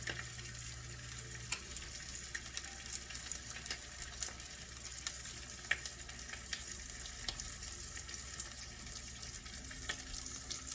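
An egg frying in leftover bacon grease in a hot pan, a continuous close sizzle with scattered small pops and crackles throughout, no voices.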